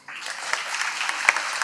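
Audience applause at a public event, a steady wash of many hands clapping that starts abruptly and carries on for under two seconds, with a few sharper individual claps standing out near the end.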